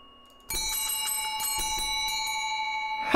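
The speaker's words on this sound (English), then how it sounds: "Don't tell me that bell's gonna like ring back with me or something." A bell rings in a ghost hunting video game. One loud, sustained ringing with a shimmering metallic tone starts suddenly after a short quiet moment and keeps sounding steadily to the end.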